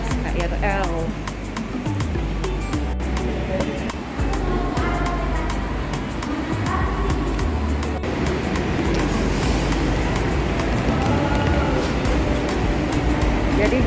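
A KRL commuter train on the Solo to Jogja line rumbles and hums steadily, loud and close, with brief clunks and rising motor whine, while people chatter nearby.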